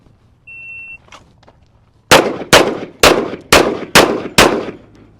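Six sharp, loud shots from a Kimber Rapide 1911 pistol fired in quick, evenly spaced succession on a shooting range, each with a brief ringing decay, preceded by a short electronic timer beep.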